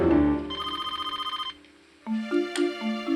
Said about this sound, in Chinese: 啊，电话啦！